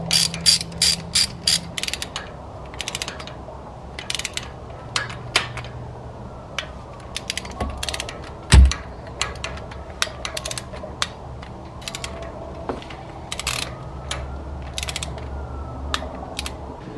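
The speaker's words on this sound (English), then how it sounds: "I need to torque these down to 7 foot-pounds. Just going to get all these in place and then I'll pull out my torque wrench." A torque wrench ratchets repeatedly while tightening the bolts of a short-throw shifter on a Mazda Miata, giving bursts of sharp close clicks with short pauses and occasional metallic knocks.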